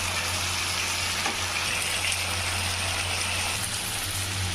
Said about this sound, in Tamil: லோ ஃப்ளேமில் இன்னொரு 5 நிமிஷம் இருக்கட்டுங்க, நல்லா ஃப்ரை ஆயிரும்.